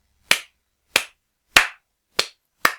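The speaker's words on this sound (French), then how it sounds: "Un tonnerre d'applaudissements, monsieur." Five slow, evenly spaced hand claps, each sharp and close, ring out alone with silence between them, like a lone person clapping in mock tribute.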